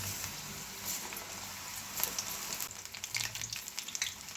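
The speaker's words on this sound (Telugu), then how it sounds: "ఆయిల్ వేడైన తర్వాత చిన్న చిన్న పకోడీలాగా వేసుకోవాలి." Green chilli and spring onion pakoras deep frying in hot oil over a medium flame: a dense, continuous bubbling sizzle with fine crackling pops, close and steady, no voices.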